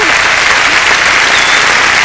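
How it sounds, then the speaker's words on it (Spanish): Loud, dense applause from a television studio audience on a Mexican music and variety show, a continuous wash of many hands clapping close and full for two seconds, with no voices standing out. "Pues un aplauso a nuestros amigos de Santander, España."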